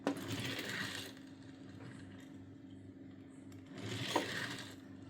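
A Hot Wheels Dodge Dart toy car rolls across a surface, making two soft, faint rolling rattles a few seconds apart with quiet gaps between them.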